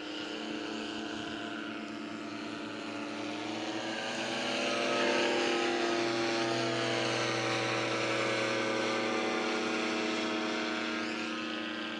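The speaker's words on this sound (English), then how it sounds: "he's got so much power there that he can whip that plane around like there's no tomorrow" Powerful, maneuverable small propeller airplane flying at a small-town airstrip fly-in, its engine droning loud and close, swelling and shifting pitch as it turns, with no talk.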